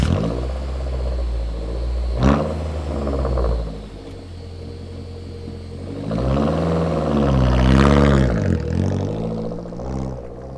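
Suzuki Jimny engine with a back box delete exhaust idles with a deep burbling rumble, then revs up and down in two rising and falling sweeps, loud and close with no talking.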